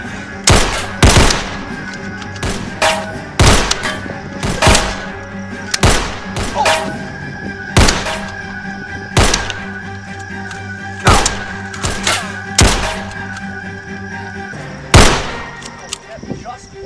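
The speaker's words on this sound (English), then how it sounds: "Just keep shooting at him" Gunfire from a film shootout: loud, sharp gunshots fired in irregular bursts and single cracks, close and dominant, spread across the scene with short gaps between volleys.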